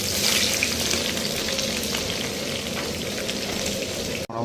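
Bay leaves and whole cumin seeds crackle and sizzle in hot oil for tempering, a dense, even spitting hiss like light rain, close and steady, cutting off abruptly at the end.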